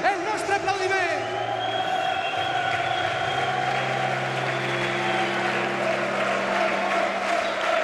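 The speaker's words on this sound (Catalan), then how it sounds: "anem ja a dedicar una gran ovació a estos que són els pilotaires del futur" Spectators at a raspall pilota final in Genovés give sustained applause and cheering over an amplified announcer's voice, with a loud steady crowd roar and a few whoops rising near the start.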